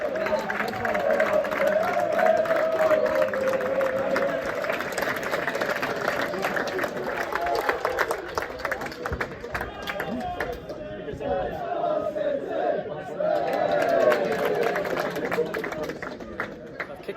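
York City away supporters, roughly a hundred of them, fill a small stadium with steady crowd noise about fifteen minutes before kick-off at Meadowbank, a loud continuous wash of voices and chanting throughout.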